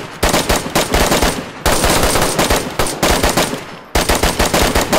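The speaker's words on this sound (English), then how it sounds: "I'm hearing rounds" Loud, close automatic gunfire in the video game DayZ comes in rapid bursts of sharp repeated shots, separated by short pauses, with no talk over it.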